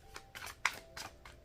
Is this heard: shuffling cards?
yes